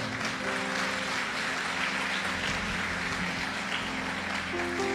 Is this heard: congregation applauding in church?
yes